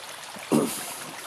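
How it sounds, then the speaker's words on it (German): Small stream of water running through a forest in Swabia, a steady soft rushing flow with a brief louder splash partway through, close by and with no voices. "da läuft das Wasserlein an"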